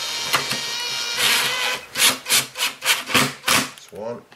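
A screw is driven into a Kirby Avalir vacuum transmission bracket, giving several rhythmic, close, fairly loud grinding turns in a row, preceded by brief rubbing and handling noises, with no talk.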